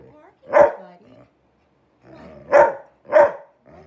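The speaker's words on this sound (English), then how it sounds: "I don't know what you're barking, buddy." A pet dog barks three times, loud and close, with a short gap after the first bark and two quick barks after it, with no voices over them.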